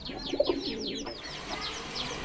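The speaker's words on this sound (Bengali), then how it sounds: "কবুতরের বাচ্চা।" Pigeon chicks in a coop make soft coos, repeated rapid chirps and squeaks up close, with a few brief wing flutters and no talking.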